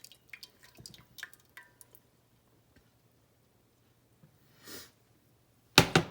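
Melted stick of butter poured into the bottom of a sprayed bundt pan for a coconut pineapple upside-down cake: faint, sparse drips and a soft trickle, then a brief louder splash at the end.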